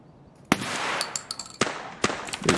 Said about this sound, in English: I'm shooting a big red